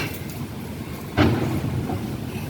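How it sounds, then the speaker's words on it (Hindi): Strong storm-like wind gusting outdoors, a steady low rushing roar with a sudden louder gust about halfway through, buffeting the microphone. "तेज हवा चल रही है। हवा तो क्या, आंधी जैसा ही चल रही है।"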